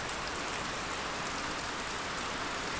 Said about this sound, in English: just torrential downpour